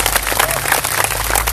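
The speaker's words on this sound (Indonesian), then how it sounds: "Tepuk tangan dong buat Ciamis." An audience at a Sundanese religious gathering in Ciamis claps in dense, continuous applause, close and loud, with crowd noise mixed in.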